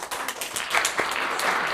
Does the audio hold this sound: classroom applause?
yes